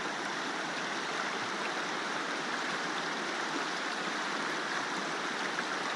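Steady rushing water from a mountain stream in the Carpathians after rain, constant and fairly loud, with no other sounds.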